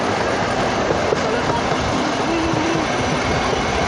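A freight train ride gives a loud, constant roar of rail noise with faint clattering and a thin metallic squeal near the middle, unbroken throughout.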